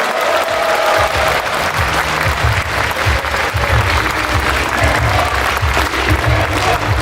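A large conference audience claps loudly and steadily after Governor Lee Jae-myung's keynote at the first Gyeonggi Province Basic Income International Conference in 2019, a dense continuous wash of applause with no voices over it.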